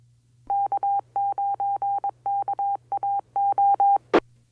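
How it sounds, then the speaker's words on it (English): A local amateur radio repeater sends a rapid burst of short, evenly keyed beeping tones in irregular groups over a low steady hum, ending in a sharp click. "This is a local repeater here making the sound."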